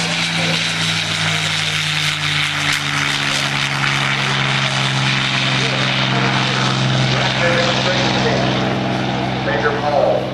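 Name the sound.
F-22 Raptor flying an airshow demonstration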